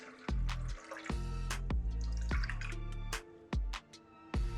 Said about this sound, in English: just slowly filling it up with water and keeping an eye on all the welds